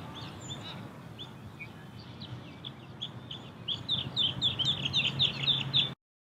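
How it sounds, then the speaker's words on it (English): A large flock of white ibis leaves its night roost at sunrise, mixed with other birds: many grunting calls and chirps overlap above a low outdoor rumble, growing denser and louder toward the end before cutting off. "it really is kind of amazing to see all these birds take off, fly overhead"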